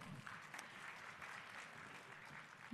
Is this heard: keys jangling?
no